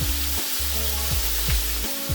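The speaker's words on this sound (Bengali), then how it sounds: "মাছগুলো ভালো করে ভেজে নেব।" Shol fish sizzling in hot oil, a steady broadband hiss holding throughout with faint low thumps breaking in at intervals, close and fairly loud, no voices.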